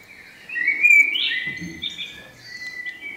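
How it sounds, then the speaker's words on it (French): Birds chirp and tweet in short bright calls through open windows on an evening, fairly faint and alone with no talk. "passe le gazouillis des oiseaux"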